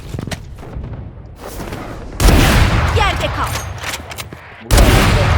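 Gunfire in a competitive tactical shooter, with sharp bursts of shots and heavy impacts arriving in loud clusters amid game effects, someone talking over the action.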